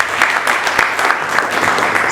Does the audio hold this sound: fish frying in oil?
no